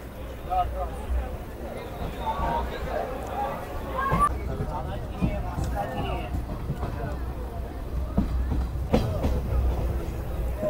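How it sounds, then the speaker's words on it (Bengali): The 13113 Hazarduari Express pulls out of Palashi railway station after a one-minute halt, with a steady low rumble and clattering wheel knocks heard from inside the coach under a background murmur of passengers. "ট্রেন আমাদের ছেড়ে দিল পলাশি রেলওয়ে স্টেশন থেকে 1 মিনিটে হল্ট দিয়ে"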